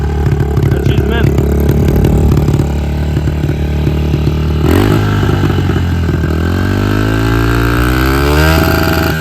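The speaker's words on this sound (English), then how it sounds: "Idle's a little bit high, but better than a little bit too low." A kick-started pit bike engine idling slightly high, a loud, close, steady buzzing putter with a brief blip midway and the pitch wavering afterward, while people talk nearby.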